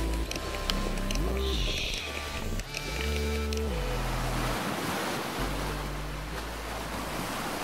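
Surf rolls onto a warm beach in a continuous wash of breaking waves, with wind buffeting the microphone and low droning tones layered over the rushing water.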